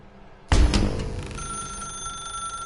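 A telephone rings in the video game The Stanley Parable, a sudden loud bell-like onset followed by a sustained ringing tone that lingers, heard alone without talk.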